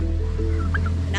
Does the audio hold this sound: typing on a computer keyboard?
no